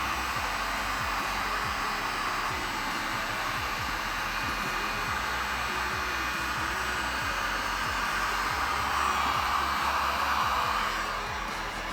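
A heat gun blows steadily and closely while carbon-look 3D vinyl film is warmed and pressed into the inner edge of an exhaust tip, a constant airy roar with faint soft handling thumps underneath.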